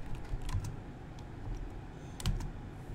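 Fingers type on a computer keyboard, tapping out a short burst of soft, uneven key clicks close by, with no voices.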